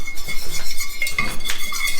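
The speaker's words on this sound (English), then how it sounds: "So a little bit of oil, a neutral oil, tablespoon or so of flour. Whisk it." A whisk scrapes and clinks against a pan while oil and flour are stirred into a roux for New Mexican red chile sauce, a close, loud metallic rattle with rhythmic strokes.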